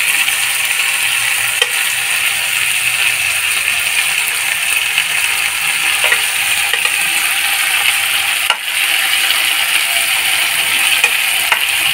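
Cubed onion and capsicum fry in a pan of hot oil, a loud, steady sizzle close up, with occasional light scrapes and clicks from stirring.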